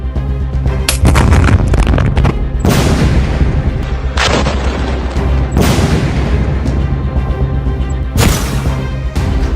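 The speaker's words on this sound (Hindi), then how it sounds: "कहा जाने वाला याह्या सिनवार जिंदा है, या फिर इन धमाकों में इजरायल का कट्टर दुश्मन हमेशा के लिए जिंदा दफन हो गया है?" Heavy explosions in war footage from Gaza: four or five loud, deep booms arrive several seconds apart, each a sharp blast followed by a long rumbling decay, with a constant roar between them.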